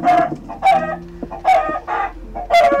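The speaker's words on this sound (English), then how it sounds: "Yes, watching a chicken die." Video game chicken clucking loudly and close in several short repeated bursts, sharp squawking calls spaced about a second apart, alone without talk.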